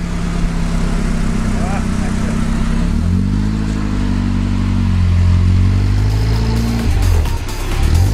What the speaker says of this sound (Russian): Вот через такое месиво этот автомобиль проезжает.